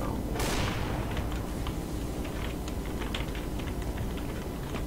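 Rapid gunfire in the video game CS:GO, a sharp burst near the start followed by scattered shots and clicks over a steady background hum, with no talk.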